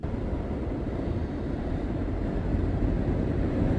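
A passing train roars through woods as a broad, continuous rumble that holds steady and swells slightly toward the end, loud and unbroken with no voices.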